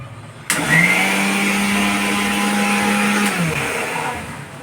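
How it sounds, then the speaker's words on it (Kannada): A mixer grinder whirs steadily as it grinds curd rice, starting abruptly with a loud motor drone that holds for about three seconds before winding down, with no talking. "ಮೊಸರನ್ನ ಗ್ರೈಂಡ್ ಮಾಡೋಣ"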